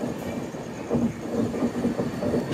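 Cocanada SF Express (12776) running on a curve at night near Necklace Road, with a steady rumble and rhythmic clickety-clack of wheels close by, carrying on throughout with no talk.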